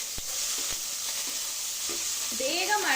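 Onions frying in oil with cumin seeds for jeera rice, a bright continuous sizzle with a few soft stirring scrapes and a brief faint voice-like sound near the end.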